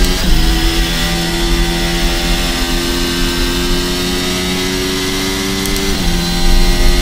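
A racing car engine screams at full revs in seventh gear, its tone climbing steadily before a quick shift into eighth drops the pitch near the end, loud and continuous with no talk.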